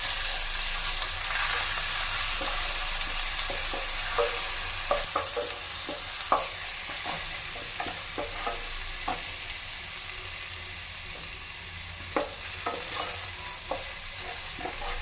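Crushed garlic sautéing in a pan, with a soft continuous sizzle and scattered scraping stirs and light utensil taps close by.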